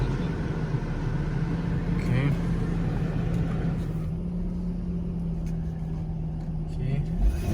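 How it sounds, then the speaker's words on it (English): A 1998 Lexus SC400 engine idles smoothly after a cold start, a steady low hum running throughout at close range, with a brief spoken word near the start. "The engine runs nice and smooth."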